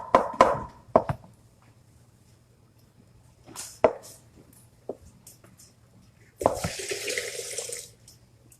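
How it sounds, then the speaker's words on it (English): A tap runs water into a pot while vegan Haitian plantain porridge is cooked, a steady close splash in the last couple of seconds, preceded by a few sharp kitchen knocks and clatters in an otherwise quiet room. "So I'm adding some more water to that."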